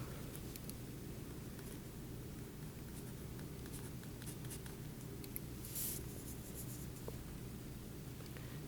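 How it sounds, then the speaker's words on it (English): Pen drawing a Lewis structure of acetic acid by hand, faint scratchy strokes of writing on paper in short bursts over a low steady background hum, no speech. "let me draw that out real quickly"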